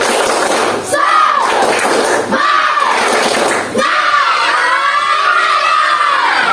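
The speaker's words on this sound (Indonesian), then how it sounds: "dalam hitungan ketiga, 1, 2, 3, tepuk semangat" A group does a spirited rhythmic clap chant, with bursts of clapping and shouting voices that rise and fall in three loud waves, close and energetic.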